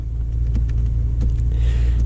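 Bentley Continental GT Speed W12 convertible with a torque-converter automatic, its W12 engine idling in a low, steady, subdued rumble close by, with faint clicks and a brief whir near the end.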